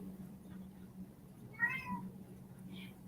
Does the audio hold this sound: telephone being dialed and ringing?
no